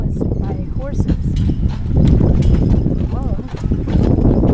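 Rhythmic clip-clop of horse hooves pulling a carriage close by, steady and continuous, with people talking over it.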